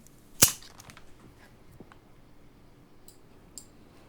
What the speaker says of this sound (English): A woody branch gives a proper clean snap.